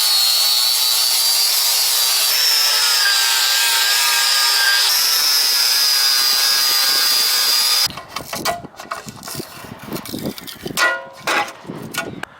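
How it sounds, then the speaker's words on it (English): A power tool grinds beige rubber coating off an aluminum thrift store table, first as a loud, steady whine for about eight seconds, then as rougher, intermittent scraping bursts. "just grind all of this beige rubber coating off"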